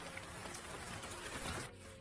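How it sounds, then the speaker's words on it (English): Steady rain falls on open prairie at the end of a storm, a dense continuous hiss that stays even throughout, with no voices and no other sounds standing out. "The rain is weakening."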